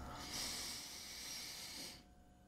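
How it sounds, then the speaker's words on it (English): A person breathing in slowly through the nostrils, one soft airy inhale lasting about two seconds, close and quiet, then silence. "Breathe in through your nostrils."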